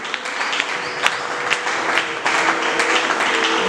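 Applause from a church congregation at an international crusade conference in Angola, dense and steady throughout with a few sharper claps standing out, moderately loud and close.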